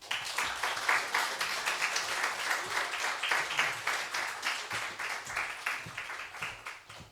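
A church congregation at a Sunday service applauds testimonies, a steady round of many hands clapping at moderate distance that fades slightly toward the end.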